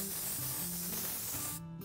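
Oribe Dry Texturizing Spray hisses onto hair in one continuous close aerosol burst lasting over a second before it cuts off.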